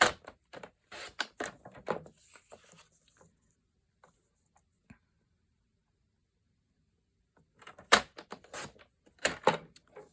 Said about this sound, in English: we'll just cut this point while we have the cutter out